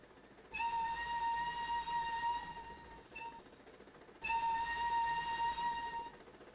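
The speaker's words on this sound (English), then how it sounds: "It's a shame I can't hold that whistle the whole way through." Flying Scotsman steam locomotive whistle from the Trainz: A New Era game, two loud sustained multi-tone blasts of about two seconds each, separated by a short break and a brief chirp, over steady rolling rail noise.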